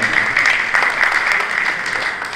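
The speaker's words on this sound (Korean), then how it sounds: "이렇게 박수 한번 해주시기 바랍니다." Congregation at a church assembly in Seoul applauds steadily, a dense, continuous clapping from a crowd filling the whole moment without pause.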